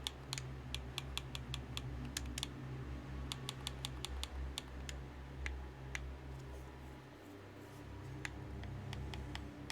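Keys on a computer keyboard are tapped in quick, irregular bursts of sharp clicks over a low background hum, steady throughout and without any talking.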